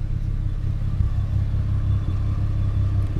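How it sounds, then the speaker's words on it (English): A manual car's engine rumbles low and steady, idling under load as the clutch engages in first gear and the vehicle slowly begins to creep forward, with no voices. "And now the car's starting to move"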